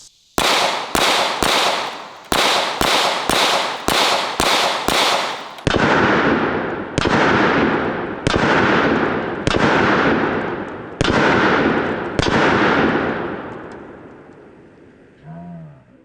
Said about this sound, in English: Dude, I'm getting pelted with bullet fragments